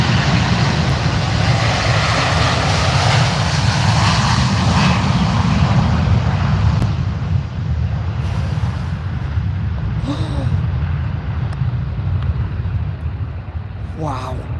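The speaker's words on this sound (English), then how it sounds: "The ATR 72 is on its final approach." ATR 72 turboprop airliner on final approach to Manchester Airport, a loud sustained propeller and engine roar that swells and then eases slightly, with faint voices of spectators underneath.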